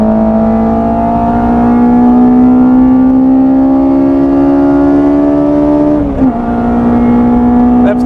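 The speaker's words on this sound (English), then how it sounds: "Them throttle bodies sound amazing." A Honda S2000 with individual throttle bodies screams on track, its loud, steady engine note climbing smoothly in pitch before a brief dip at a gear change, then resuming high and close.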